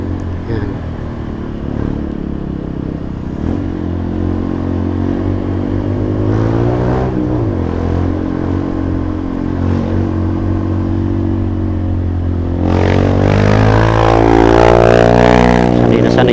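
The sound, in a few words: motorcycles climbing a steep road in Angono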